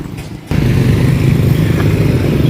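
Motorcycles pass along a busy street in the Philippines, a loud, close, steady engine rumble that starts abruptly and continues without talk.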